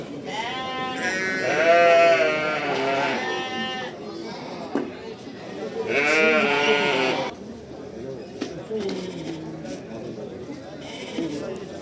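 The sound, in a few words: sheep and lambs bleating at a sheep market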